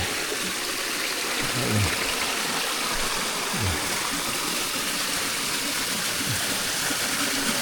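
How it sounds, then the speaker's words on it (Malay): A clear mountain river near a camp on Gunung Tahan rushes steadily, a constant broadband wash of flowing water filling the whole stretch, with faint low voices underneath. "Sungai dia ni mengalir jernih."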